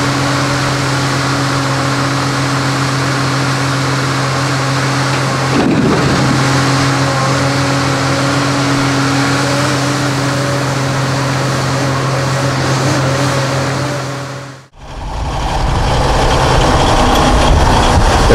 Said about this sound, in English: The truck then leaves the property and heads to the mill.